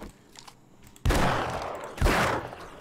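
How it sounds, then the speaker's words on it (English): Two loud, close gunshots fired in the zombie-survival video game 7 Days to Die, about a second apart, each a sharp blast trailing off into a long rumbling decay after a quiet lead-in. "Didn't mean to fire that second shot."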